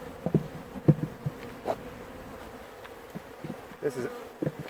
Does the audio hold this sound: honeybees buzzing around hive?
yes